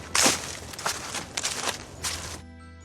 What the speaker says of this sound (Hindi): तभी अचानक रोड की दाईं तरफ किसी की आहट सुनाई दी।